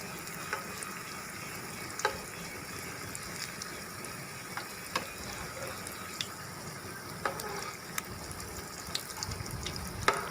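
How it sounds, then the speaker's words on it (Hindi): Sweet gur pakoras frying in a frying pan, a continuous crackling sizzle with small sharp pops scattered through it at moderate volume, no voices. "फ्राई पैन के अंदर इसको आपने फ्राई करना है"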